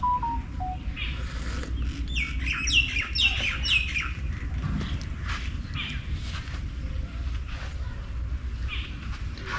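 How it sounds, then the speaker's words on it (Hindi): A chorus of varied birds calling in a jungle as evening falls, with bright chirps and squawks clustered in the first few seconds, then scattered calls over a steady low background hum. "हर तरीके के पक्षी की आवाज़ मिलेगी आपको।"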